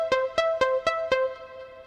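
Five short filtered pluck synth notes play from Nexus in a steady, even rhythm, each a bright, quickly decaying tone, clean and alone.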